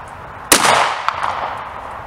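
A single sharp, loud report from a Glock 26 pistol firing Corbon DPX Gen 2 ammunition at an outdoor range, followed by a short ringing echo that fades out over about a second.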